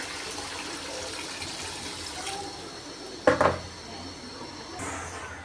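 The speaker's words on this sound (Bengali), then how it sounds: "এখন আমি জল দিয়ে দেবো" Water is poured into a pan of boal fish curry cooked in ground spice paste, a short close splash of about half a second rising over a quiet kitchen background.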